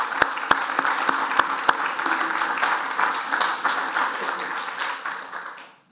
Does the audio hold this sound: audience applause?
yes